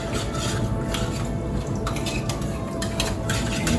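Leftover condensed milk being mixed in a container for a Brazilian flan, with steady scraping and clinking of a utensil against the sides, loud and close, without speech.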